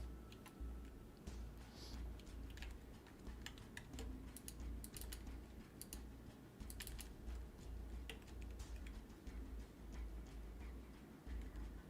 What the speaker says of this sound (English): your mouse clicks are louder than AF.